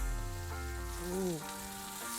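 Ramen-stuffed jalapeños sizzle in hot oil, a steady broadband frying hiss that runs for about two seconds while a voice gives a brief exclamation over it.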